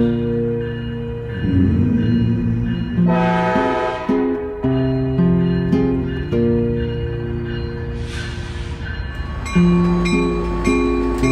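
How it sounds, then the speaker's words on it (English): A passenger train in Labrador arrives at a station, with loud, steady rumbling and tonal rail and horn-like hums. Brief hissing bursts rise over the sustained roar. No talk is heard. "Jumping on the train up to Menahik Dam."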